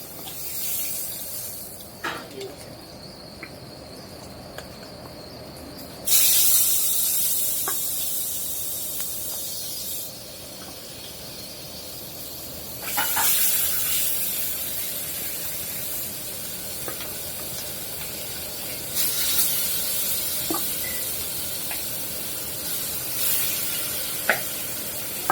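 Pangas fish frying in a pan gives a soft, continuous sizzling hiss that swells into several louder bursts of spattering, with no one talking.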